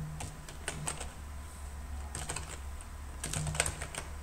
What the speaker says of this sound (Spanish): Yo lo voy a digitar acá